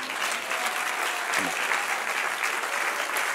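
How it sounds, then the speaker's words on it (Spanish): A church congregation at a Spanish-language service applauds throughout, a thick, steady wash of many hands clapping at an even level, with no pauses or spoken words. "Dar un aplauso al Señor."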